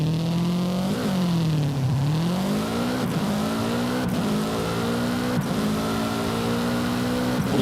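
A Subaru rally car engine revving in Forza Horizon 5, a steady loud drone that swells and dips through several throttle blips, with faint ticks over the continuous engine tone.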